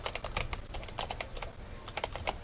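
Fingers tap quickly on a computer keyboard while someone enters text into an Excel spreadsheet graph. The keystrokes come as soft, close, uneven clicks in a steady burst.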